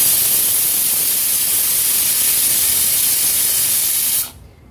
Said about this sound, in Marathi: गॅसची फ्लेम मीडियम वर ठेवून 8 ते 10 शिट्ट्या काढून घ्यायच्या